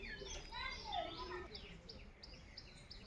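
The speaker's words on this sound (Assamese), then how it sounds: "সাৰ পাই যেতিয়া মই চৰাই মাতবোৰ শুনো নহয় মনটো খুব ভাল লাগে।" Birds chirp outdoors under a cloudy morning sky, making faint, scattered tweets and short whistled calls at a distance over quiet background noise.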